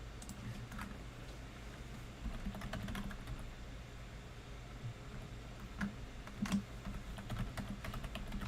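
Typing on a Logitech computer keyboard, with a steady run of quiet, irregular key clicks and a few louder taps over a low background hum, and no talk.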